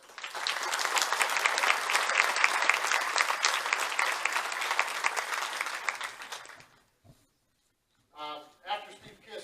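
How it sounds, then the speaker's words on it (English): Loud, dense applause from a crowd at a wrestling hall of fame honors banquet, holding steady for several seconds before fading out, followed by a brief pause and then a voice. "Let's give these guys a round of applause."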